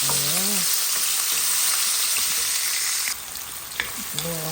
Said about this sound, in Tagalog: Sibuyas, bawang, at kamatis. At ating haluin.